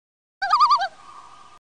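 A sampled bird call from an ambient house track: a single short, loud warbling gobble-like trill followed by a quieter sustained tone, heard alone against silence.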